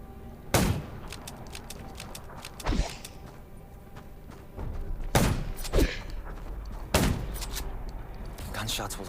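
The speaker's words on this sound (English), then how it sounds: "Gunshots will attract more." Gunshots fired at zombies in the video game Undawn crack out in separate sharp bursts, a few single shots and close pairs spread over several seconds, loud against a quieter background.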